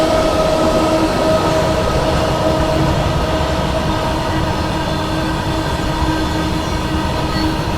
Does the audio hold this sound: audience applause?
no